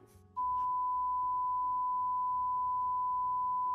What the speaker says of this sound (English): Oh my god, that's a long beep. It's still going.